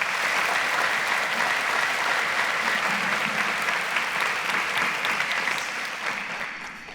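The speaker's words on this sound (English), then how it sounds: "A round of applause to Yusuf." A studio audience on the Cowbellpedia quiz show breaks into sustained, close applause that holds at full strength before thinning and fading slightly near the end.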